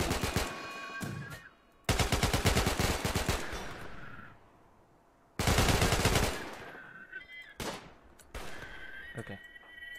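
Bursts of rapid automatic gunfire in the colony sim Rimworld during a raid, two loud sustained volleys separated by quieter gaps with scattered single shots and game sounds between them; a voice speaks briefly.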